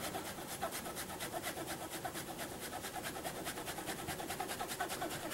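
Fresh parmesan cheese grated with a quick zester for pasta carbonara, giving a steady, close rasping scrape that repeats in fast even strokes throughout.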